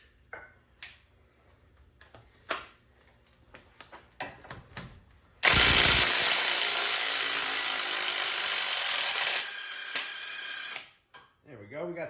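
An impact wrench spins off an 18 mm strut nut on a 2014-2019 Jeep Cherokee during front strut replacement. Scattered clicks and clanks lead into a loud, sustained, rattling hammering burst lasting about five seconds, then sparse handling noises.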